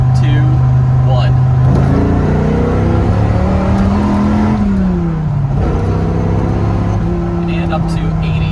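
A 1997 Dodge Viper GTS accelerates hard from around 40 mph on a closed road, its loud engine note climbing steadily in pitch through the run, with a brief dip as a gear change comes midway.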